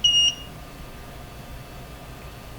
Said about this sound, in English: Why this meter has to beep every time it auto ranges?